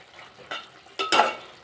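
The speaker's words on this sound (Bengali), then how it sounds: "একটু লাড়াচাড়া দিয়ে দিচ্ছি" A rohu fish curry with cauliflower and potato is stirred in a pan, giving a few short scraping swishes over a faint sizzle, close and unaccompanied.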